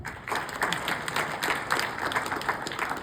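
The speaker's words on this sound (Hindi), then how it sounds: "इस बात पे तालियां होनी चाहिए" An audience at a Bharat Vikas Parishad gathering breaks into applause, a steady wash of many hands clapping at moderate loudness for about three seconds with no talking.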